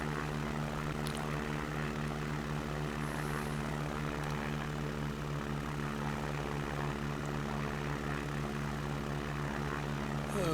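Steady, loud drone of a light Cub propeller aircraft engine in flight, a continuous close harmonic hum that holds evenly from start to finish with no voices.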